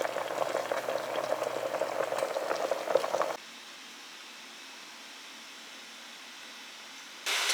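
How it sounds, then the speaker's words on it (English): Homemade peach barbecue sauce cooking down on a stovetop gives a soft steady bubbling hiss for about three seconds, then drops to a faint quiet background before a short return of sound at the end. "we'll bring this over to the stovetop and cook this down until it thickens into something resembling a barbecue sauce"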